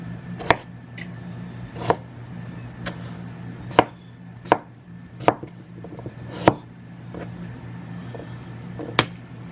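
A knife chops potatoes on a cutting board in a home kitchen, giving about ten sharp, separate strikes at an uneven pace, close and clear, with no talking.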